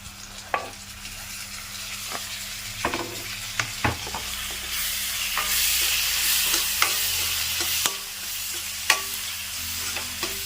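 Chopped tomato and ginger-garlic paste frying in a pan for a potato and chana dal kurma, a constant sizzle broken by repeated sharp scrapes and taps of a spatula stirring, close and with no talking.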